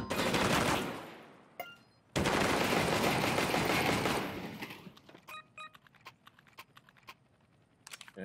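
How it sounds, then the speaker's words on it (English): Sustained automatic gunfire fires at the player in CS:GO Danger Zone, two loud dense bursts of rapid shots broken by a brief gap, then fading into scattered sharp single cracks and clicks. "Didn't think it was gonna shoot at me, but okay."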